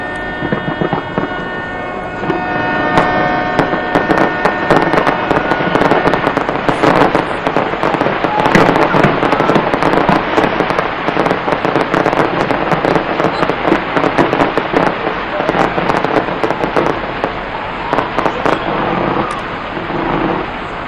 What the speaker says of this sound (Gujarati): તો આતશબાજીનો નજારો જોઈ શકો છો આપ સંદેશ ન્યૂઝના ટીવી સ્ક્રીન પર